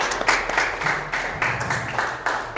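A class of vocational hospitality students in an Indonesian classroom, led by the class captain, claps in a rhythmic group pattern. Loud, evenly spaced bursts repeat several times in quick succession.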